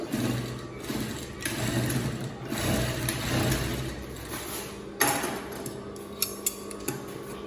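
A sewing machine stitches the other side of a dress, running in a steady close whir that slows and stops near the end, followed by a few light clicks and no talking.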